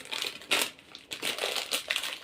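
A crinkly plastic wrapper of Qloob biscuits is torn and crumpled open up close, sharp bursts of crackling in irregular handfuls with brief pauses between.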